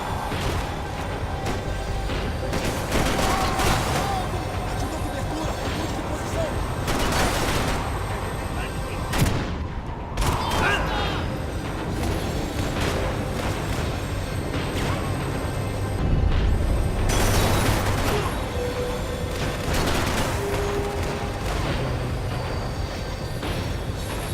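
Bursts of gunfire and crashing impacts from the shooter game Max Payne 3, loud and dense with repeated volleys over a constant rumbling game backdrop.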